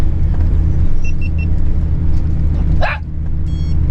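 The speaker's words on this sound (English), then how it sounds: "We don't need any barking." A single short bark from a dog inside a moving vehicle, heard over a constant low road rumble with a few faint electronic chimes.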